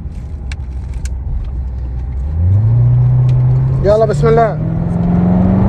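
A Chevrolet Corvette Grand Sport race car on track has its engine rise in pitch into a loud, steady drone close by, with a man's brief speech over it midway.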